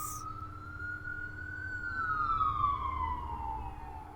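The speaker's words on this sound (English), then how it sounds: "So it was a fire truck, I think a police car, and now an ambulance." One emergency vehicle siren from a procession of a fire truck, a police car and an ambulance rises and then falls in a long wail, moderately distant over a low traffic rumble, no speech.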